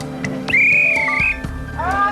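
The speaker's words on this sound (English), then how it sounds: "When the whistle blows, everyone has to stop what they're doing" A sharp whistle blast rings out loud and close as a signal for couples to stop what they're doing, a sustained shrill tone wavering slightly before cutting off, then a shorter second toot, with brief background chatter around it.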